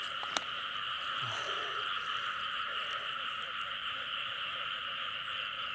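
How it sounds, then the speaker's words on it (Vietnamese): A large female frog croaks steadily through a night wetland chorus, a continuous dense drone of calls with a brief click early on, steady and moderately loud with no talking. "ếch cái bự nghe nha"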